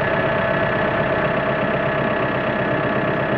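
A Teagle machine's engine idles steadily while warming up from cold for grass cutting, a constant low rumbling drone with a slight knock, close and uninterrupted.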